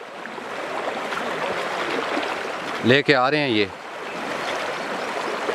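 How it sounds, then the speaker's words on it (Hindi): Floodwater rushing down from the mountains after heavy rains in a hilly area, a steady broadband roar of flowing water continuous throughout, with someone speaking briefly over it near the middle. "ये बहुत दूर दराज से पहाड़ों से पानी आ रहा है"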